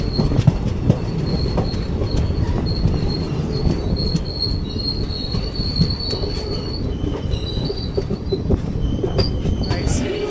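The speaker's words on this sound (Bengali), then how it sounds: "Electric loco trip say new Jalpaiguri." Uttar Banga Express train hauled by an electric locomotive near New Jalpaiguri, wheels squealing with high metallic whines over a steady loud rumble and rattle of the carriages, lasting throughout.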